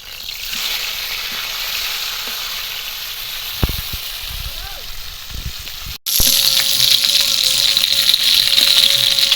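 Pieces of rohu fish frying in hot oil for a Bengali fish curry give a steady, loud sizzle and hiss that jumps sharply louder partway through and keeps crackling densely.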